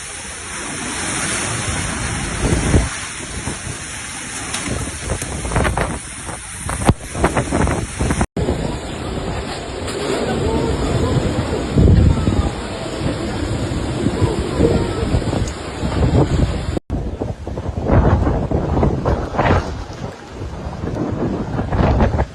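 Category 5 Hurricane Melissa's 280 km/h winds batter Jamaica, a loud roaring gale with crashing surf and buffeting gusts that hit the microphone, heard in three abruptly cut stretches of continuous storm noise.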